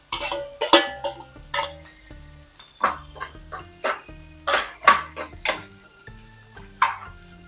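Chopped ginger and small sambar shallots dropped into hot oil in a pan for a kingfish and tuna curry give bursts of sizzling and clinking of pan and utensil, close and fairly loud, with no talk.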